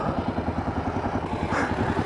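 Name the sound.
KLR 650 motorcycle being restarted after stalling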